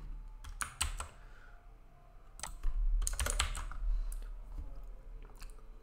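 Fingers type code on a computer keyboard, with quick irregular key clicks in clustered bursts, close and moderately quiet over a low steady hum.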